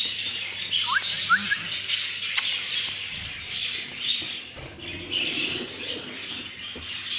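Baby birds chirping in a breeding nest inside a bird-rearing room, with faint, thin high cheeps and short tweets heard close by over a soft steady background hiss.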